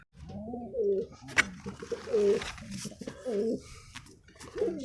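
Pigeons cooing close by, a series of soft low throaty coos repeated at a slow, regular pace, with a few faint background clicks.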